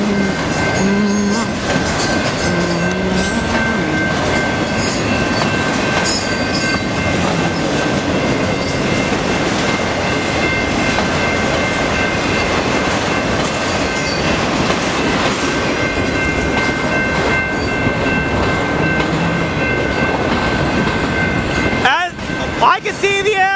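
A Norfolk Southern mixed freight train rolls past a railroad crossing in Wyandotte, Michigan, a continuous loud rumble with rhythmic wheel clatter and squeal over twenty-odd seconds, with a sharp burst of clanking near the end.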